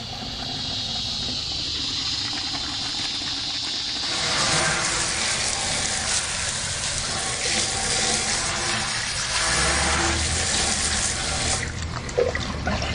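Water drains from a deep fryer in a steady rushing, hissing flow. It gets a little louder partway through and keeps running for the whole stretch, heard close up.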